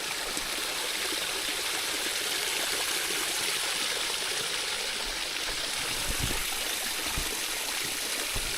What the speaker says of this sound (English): always something quite enchanting about a little bridge with a little stream